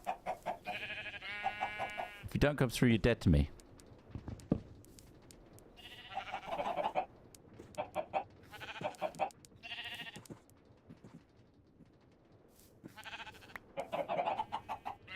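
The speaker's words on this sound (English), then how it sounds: "Look what I've got. Stupid dumb chickens." Chickens clucking in the Minecraft game: scattered bleating clucks and squawks in short bursts across the stretch, mixed with a loud burst of other game noise early on, while someone talks over parts of it.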